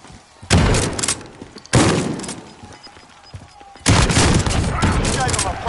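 Three loud, close bursts of automatic gunfire in Call of Duty Warzone, each a sharp onset that trails off, separated by short lulls with faint background noise.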